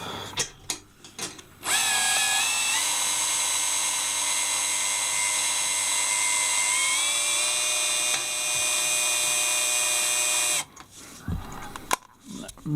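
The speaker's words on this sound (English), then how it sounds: "you use your drilling machine. Just set it to the lowest setting and easily drill within the square hole" A power drill on its lowest setting whines loudly and steadily for about nine seconds while drilling metal on a GY6 scooter engine, its pitch dipping slightly midway, framed by brief clicks and handling noises.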